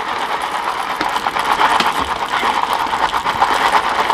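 A coffee grinder crushes coffee beans with a loud, close, gritty whir and rattling crunch that churns on steadily without pause, with no talking.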